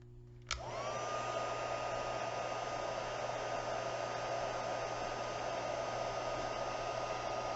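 A heat tool blows steadily, a continuous loud whooshing hum that starts abruptly and runs unbroken while warming puff paint on cardstock for a Santa gnome craft.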